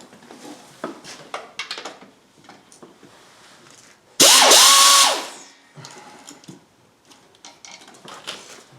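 Ratcheting clicks from a socket wrench working near the engine of a 2005 Chevy Suburban 5.3L, scattered short ticks with a loud power-tool whir in the middle, all close by.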